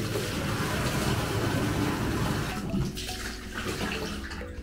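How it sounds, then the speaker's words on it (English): A sink faucet runs steadily, a broad rushing splash of water that holds loud and even and then eases slightly toward the end, with no voices. "Turn your sink on or faucet."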